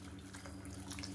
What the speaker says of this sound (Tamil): இப்போ நம்ம வந்து தண்ணியை சேர்த்துக்கலாம்.